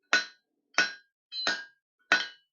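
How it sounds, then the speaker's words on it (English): Four evenly spaced hand-hammer blows ring out on hot steel as a knife tang is drawn down on an anvil, each strike sharp, close and loud with a short metallic ring. "Get a little bit more control drawing that tang down"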